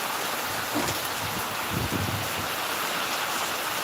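Heavy rain pours down steadily, a dense, loud, continuous hiss and patter with no break, heard up close and without any talking.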